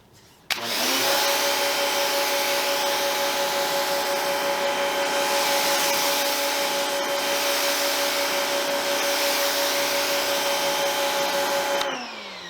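A pressure washer sprays through a pivoting coupler wand while washing a car's hood, a loud steady hissing roar with a constant whine that starts abruptly and runs unbroken for about eleven seconds before cutting off.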